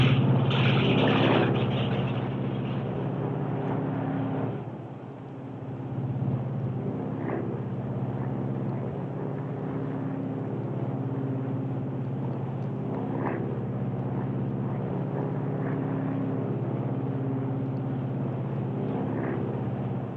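A piston engine on a Lockheed Super Constellation airliner, engine number one, unfeathers and settles into a steady droning run. It is loud at first, dips briefly, then holds an even, throbbing hum with no talking.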